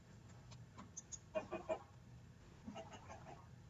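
A chicken in the Minecraft video game gives a few quiet, short clucks clustered near the middle, then fainter clucking follows against a low, quiet background.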